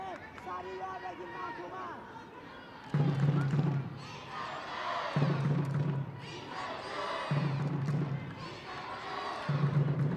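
Stadium crowd at an AFC Women's club football match between Hyundai Steel Red Angels and Bam Khatoon FC in Incheon, a loud roar that swells and surges in waves near the final whistle, with a commentator talking over it.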